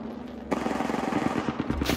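Rapid automatic gunfire erupts in the Apex Legends video game, a loud close burst of evenly spaced shots that starts abruptly after a quiet lead-in and keeps going to the end.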